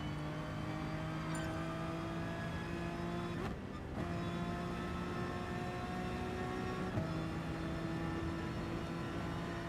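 A Honda NSX races a McLaren in GT Sport, their engines holding a steady, loud, tonal drone throughout, with one brief dip partway through and no talking.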